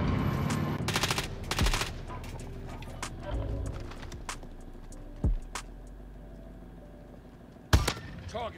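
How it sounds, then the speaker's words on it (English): Gunfire in the video game Warzone, rapid bursts of automatic shots early on followed by scattered single loud reports, including a sharp heavy shot near the end, with game ambience between. "He's literally standing and firing."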